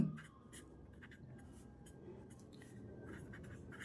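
Chalk or marker writing on a classroom board while working a class 7 maths exercise gives soft scratchy strokes in short irregular bursts. The writing is faint and close, with no one talking.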